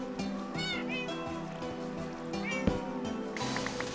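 Several short meows from a Minecraft cat come in quick succession early on, with another later, all over continuous background game music and a brief click near the end.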